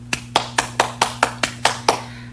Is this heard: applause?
yes